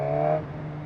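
A Suzuki Katana 1000 cc motorcycle from 2021, still being run in, revs with a strong steady engine tone that drops away partway through. It is loud, close and brief, and no one speaks.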